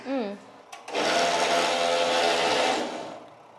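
A round cotton wick making machine starts up with a loud, steady mechanical whirring hum that runs for a few seconds and then fades, after a brief voice at the start.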